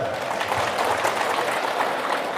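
An audience at a religious talk bursts into applause, dense and loud clapping from many people sustained evenly throughout with no voices rising above it.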